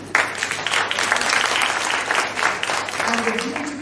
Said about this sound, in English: Yes, clap them.